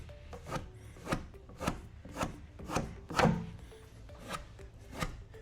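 A squeegee is drawn in steady, repeated strokes across XPEL paint protection film on a Tesla Cybertruck, giving soft rubbing swipes about every half second, close and fairly quiet.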